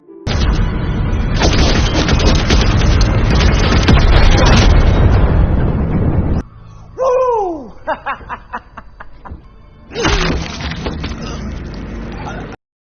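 Grenade blasts in a film scene, a loud booming roar sustained for several seconds, followed by a burst of pitched creature-like cries and thuds, then another heavy rumbling blast.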